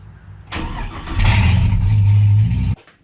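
An LS-swapped Chevrolet C10 truck engine cranks briefly, then catches and settles into a loud, steady idle close by before cutting off abruptly.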